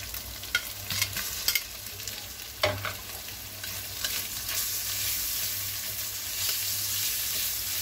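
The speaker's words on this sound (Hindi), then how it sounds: "अभी इसमें मैं ऑनियन डालूंगा।" Onion frying in a pan with ginger and garlic, a steady hiss and sizzle throughout with a few stirring clatters early on, close and alone without talk.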